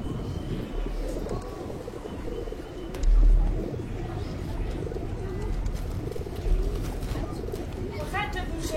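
Pigeons coo softly in a Paris street scene during an end-of-year stage show, low repeated cooing murmuring beneath performers' talking, with a brief louder thump partway through.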